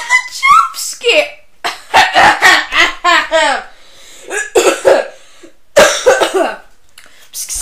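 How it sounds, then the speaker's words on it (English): Repeated harsh coughs and throat clearing from one person, loud and close, coming in bursts separated by short pauses. "Sorry, guys. I keep coughing."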